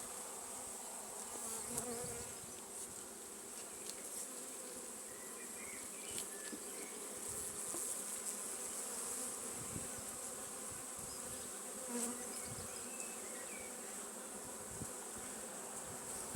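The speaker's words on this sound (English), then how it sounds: "Nice lot of bees here." A dense, continuous hum of many honey bees, mostly workers, buzzing close by in a hive, steady and soft throughout with small swells.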